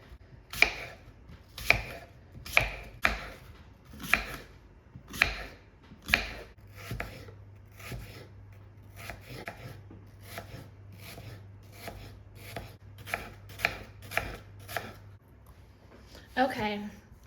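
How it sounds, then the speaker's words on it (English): A knife chops apples down to the core on a cutting board, with a steady run of sharp, close cutting thuds, some bunched in quick pairs, and a brief scraping sound at the end. "Apples, I'm just going to cut them till I'm left with their core."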